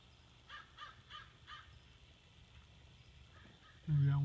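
A bird calls outdoors, a series of four short, crow-like caws at moderate distance, followed by a sudden loud low tone at the end.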